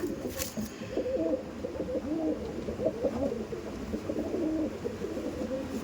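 Several pigeons, Giribaz tumbler birds kept for sale, coo continuously in overlapping low, rolling calls at close range, with no talk over them.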